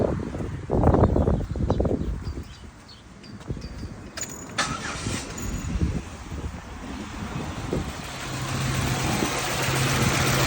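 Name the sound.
2008 Buick Lucerne GM 3.8 engine starting and running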